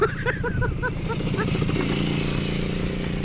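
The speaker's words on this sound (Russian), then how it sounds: "О, мотоцикл едет" A motorcycle rumbles along a rural road, its engine note steady and fairly close, while people talk over it in the first half.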